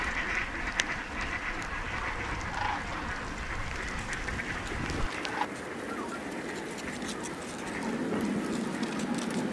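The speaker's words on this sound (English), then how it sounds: "Hundreds of mallards." Hundreds of mallards quack in a noisy chorus across a flooded cornfield, with constant overlapping calls near and far and the occasional louder honk standing out.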